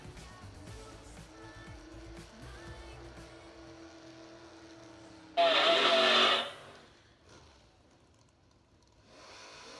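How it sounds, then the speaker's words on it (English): Drag race car engines rumble and rev in the distance in the staging lanes, with a loud burst of roaring noise midway before settling back to a low drone. "you can hear a couple of engines running down there in the staging lanes"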